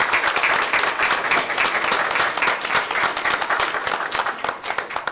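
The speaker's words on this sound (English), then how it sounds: "So parents and family members, you should also get a round of applause." A school board meeting audience applauds parents and family members, a dense, sustained round of clapping from a large crowd of many hands, continuous and fairly loud throughout.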